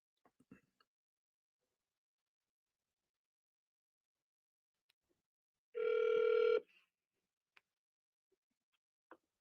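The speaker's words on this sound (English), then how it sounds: "Let's pick up the phone" A single short telephone tone sounds once, a clear steady electronic ring on a call lasting under a second, surrounded by near silence and a few faint clicks and taps.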